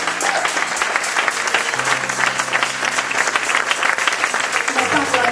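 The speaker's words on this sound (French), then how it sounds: "So we clap for that servant." A church congregation claps for a visiting minister, a lively, sustained round of applause filling the room while a preacher keeps talking over it.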